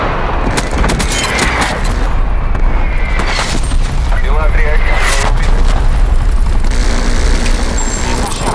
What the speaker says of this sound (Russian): Агент штаба, вызываю артиллерию.